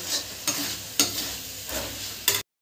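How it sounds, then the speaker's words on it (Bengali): Spiced masala for butter chicken frying and being stirred in a pan, a steady close sizzle broken by several sharp scraping stirs at regular intervals, with no voices. "ভালো করে ভেজে নেবো, ভালো করে আমি কষিয়ে নেব।"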